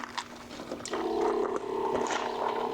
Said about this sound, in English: Okay, so you can hear my pump.